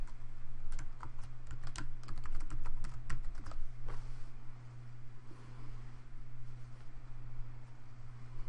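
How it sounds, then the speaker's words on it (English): A password being typed on a computer keyboard, with quick, close key clicks in a burst over a steady low hum, then fading to faint, sparse taps. "type in my password"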